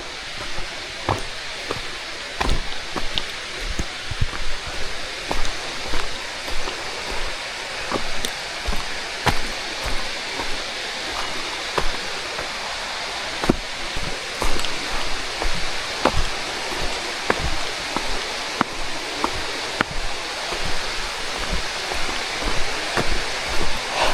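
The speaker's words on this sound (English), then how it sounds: "You can already hear the water." Steady rushing water of Lost Creek flowing near the falls on a back-country trail, a constant broadband wash with scattered small clicks and footstep-like taps over it.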